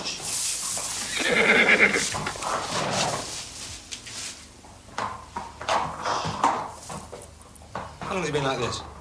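A hunting horse suffering from colic, a nobleman's hunter, whinnies and neighs in bursts, with a dog barking and hooves shifting nearby while people talk over it.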